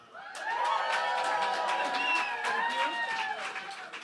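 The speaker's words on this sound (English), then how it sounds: "Wow, all this clapping and you haven't even heard me talk yet." A crowd at a science talk night claps and cheers for an arriving speaker, with whoops and lively voices mixed into sustained applause.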